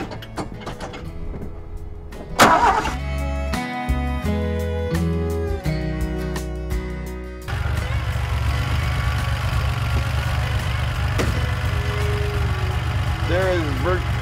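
A 1981 DeLorean DMC-12 engine is cranked with a few uneven starter bursts, then catches and settles into a steady close idle with a low rumble; voices speak briefly near the end.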